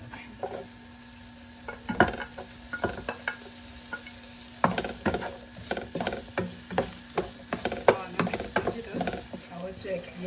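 Chopped carrots and onion being stirred and fried in a pan for a leek dish, with repeated clattering utensil scrapes and knocks over a low sizzle, close up and fairly busy throughout.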